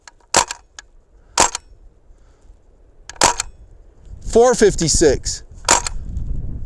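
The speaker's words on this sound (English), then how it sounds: "Couple more shots for velocity." Full-auto Tommy gun style BB gun firing, sharp loud cracking shots in separate bursts and singles spread over several seconds, with a person talking briefly over the later shots.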